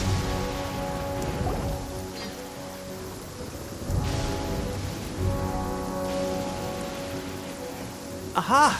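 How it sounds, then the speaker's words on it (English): Steady rain in Genshin Impact falls with rumbles of thunder rolling in now and then, under game music and sound effects, with no talking. "It always rains when I go on an adventure."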